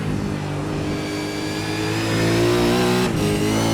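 A Supercars race car in an esports racing game runs at full throttle through the dogleg at Bathurst, its engine note a loud, steady, close drone that climbs gradually in pitch, with a brief dip near the end.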